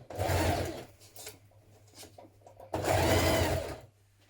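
A sewing machine stitches the hood seam of a hoodie in two loud, close, steady bursts with a strong low hum, separated by a quieter pause filled with light handling sounds.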